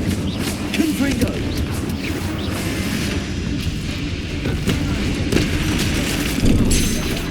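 Spell explosions and blasts from the PC game Hogwarts Legacy, with a dense run of booming, crashing impacts and dense battle noise sustained throughout at close range with no pauses.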